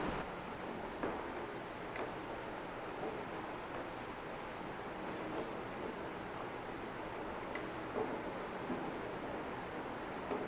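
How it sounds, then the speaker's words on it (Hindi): Potatoes and onions frying in a pan for a Spanish omelette (tortilla de patata), giving a steady, dense crackling hiss that carries on evenly throughout with no talking. "अब हम इसमें प्याज भी फ्राई कर लेंगे।"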